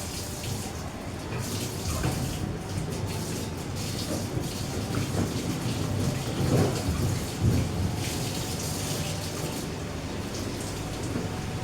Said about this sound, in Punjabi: ਹੁਣ ਆਪਾਂ ਮਸ਼ੀਨ ਵੀ ਧੋ ਲੈਣੀ ਹੈ